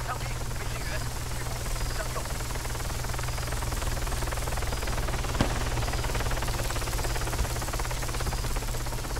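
A helicopter in the military video game ARMA 3 drones loudly and steadily throughout, a constant rotor and engine roar with no break.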